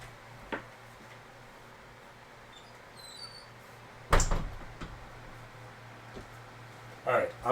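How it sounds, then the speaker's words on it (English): A studio door swings shut with a firm thud and rattle, close by, amid faint handling clicks and a softer knock shortly after. "let me close the door too to my studio."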